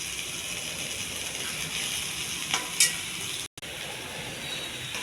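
Cooked brown rice sizzles steadily in hot oil tempering with coriander powder and salt, a constant close frying hiss with a couple of faint clinks and a brief cutout.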